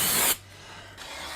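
Aerosol brake cleaner sprayed onto a disc brake rotor during a brake job, a loud steady hiss lasting about a third of a second before cutting off, followed by quieter background.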